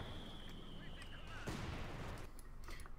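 A burst of MG-42 machine-gun fire in a World War II strategy game, a dense rattling volley at middle distance amid battlefield rumble, with a voice talking over it.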